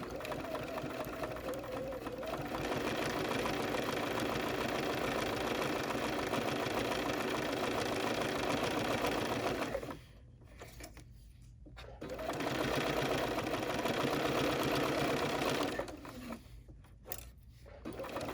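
A Bernina sewing machine stitches fabric in a steady, rapid mechanical whir for about ten seconds, pauses briefly, then runs another sustained stretch before stopping again, with no talk over it.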